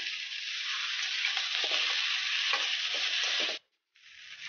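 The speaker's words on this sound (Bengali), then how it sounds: "আলু ভাজা হয়ে গেছে গা, এখন সজনে দিয়ে দিতেছি।" Potatoes and drumsticks fry in a pan with a dense, close sizzle and light stirring scrapes, then the sound cuts out briefly before resuming.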